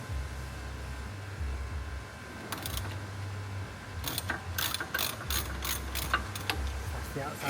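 A ratchet wrench clicks while breaking loose the rear lower control arm bolt on a Tesla Model 3, with bursts of rapid close pawl clicking over a low steady hum.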